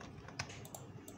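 Keys on a computer keyboard tap quickly and faintly during a copy-and-paste task, a soft cluster of clicks with no voice.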